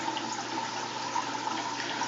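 Drain water spills steadily into a tank, a constant trickling, splashing flow heard close and alone.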